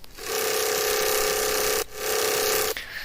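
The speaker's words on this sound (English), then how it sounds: "if I switch the unison from 16 to 1, it sounds like this." A single-voice wavetable synth note with unison cut from 16 voices to 1, a thin buzzy sustained tone held alone, briefly retriggered twice.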